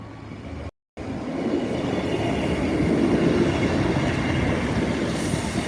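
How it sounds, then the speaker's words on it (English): A train rumbles closer, its steady low roar and rattling wheels growing louder, with faint squeal, after a brief quiet moment near the start; an East Midlands Railway service from Leicester terminating at Lincoln. "Train 1 approaching."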